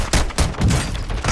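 Rapid gunfire in Call of Duty: Modern Warfare II, a quick burst of several loud, close shots in uneven rhythm.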